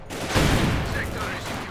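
Gunfire from the real-time strategy game Company of Heroes 2, a dense fusillade of small-arms shots in a 1v1 match, loud and continuous with battle noise throughout.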